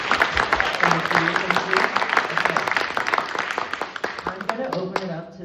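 A room of listeners breaks into a round of applause, a dense patter of many hands that swells early, holds steady, then thins into a few scattered claps and dies away near the end.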